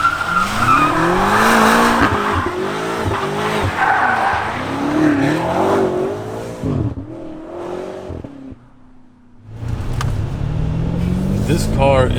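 A tuned 700-horsepower BMW M5 F90 screeches its tires in a loud, sustained skid while the engine revs hard, quieting for a moment before the revving and squeal return.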